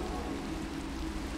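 Rain falling in the video game Minecraft, a dense steady hiss of drops on surfaces, continuous and even at moderate loudness.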